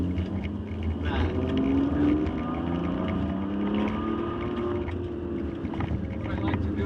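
A 2007 Ferrari 599 GTB engine revs steadily and loudly up through its range under wind rush, with a voice talking over part of it.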